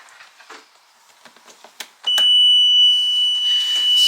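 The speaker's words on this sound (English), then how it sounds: "The alarm that you can hear is because there's no oil pressure." Steady electronic alarm tone from a diesel engine's low oil pressure warning, sounding continuously and loud right after a few clicks and taps as the engine is switched on with no oil pressure.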